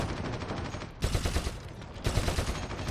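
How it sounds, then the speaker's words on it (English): Gunshots in Warhammer 40K: Eternal Crusade, automatic fire downrange with a continuous rapid rattle and louder bursts starting around the one- and two-second marks, steady and fairly loud. "we're going to try and take a couple of shots down range and see what we can see."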